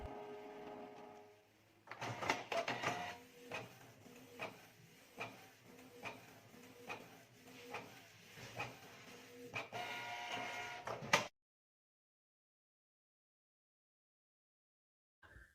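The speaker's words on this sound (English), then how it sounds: "Now we'll print another nozzle check to check if the problem has fixed." A Canon G2420 inkjet printer prints a nozzle check pattern, its carriage whirring and clunking in a regular back-and-forth rhythm for several seconds before stopping abruptly into silence.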